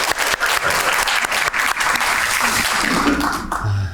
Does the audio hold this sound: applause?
yes